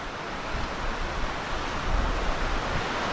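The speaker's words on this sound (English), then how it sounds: "But it is windy up here." Wind rushes steadily past at Hawk Rock Overlook near Duncannon, Pennsylvania, a broad low roar with gentle surges and no voices.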